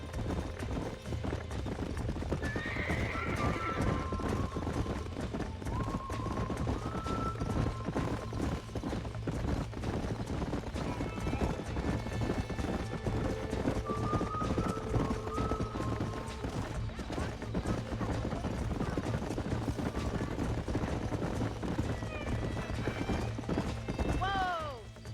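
Hooves clip-clop rapidly over ground as horses gallop in the video game Red Dead Redemption, with an occasional whinny and rustling movement mixed in throughout.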